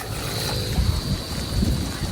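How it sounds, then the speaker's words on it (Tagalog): Steady wind rushing across the microphone outdoors at a fishpond, with low gusty rumbles rising and falling and no voices. "Mahangin po ngayon."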